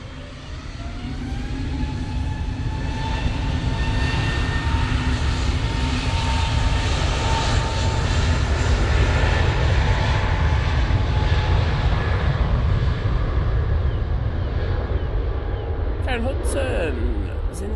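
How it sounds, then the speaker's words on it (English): A TUI Boeing 787-9 Dreamliner arriving from Cancun comes in to land at Manchester Airport. A steady, loud jet roar with a whining tone holds throughout, sliding slightly in pitch, close by. "So Tui we got in, coming in 787-9 Dreamliner, coming in from Cancun"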